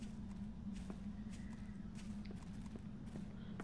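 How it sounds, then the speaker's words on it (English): Faint, scattered footsteps in the video game 7 Days to Die sound as soft, irregular thuds, quiet and distant beneath a low, constant background rumble. "Why do I keep hearing the sound of footsteps?"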